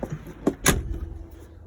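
A door being shut on an Autosleeper Talisman motorhome, heard as a couple of close handling knocks followed by one sharp, loud slam, then a quiet interior hum.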